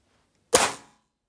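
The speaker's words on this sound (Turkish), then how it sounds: "Bir tek el atış yapacağız." A Rexsimex RP PCP air rifle fires one sharp, loud shot after silence. The crack decays quickly and nothing else is heard.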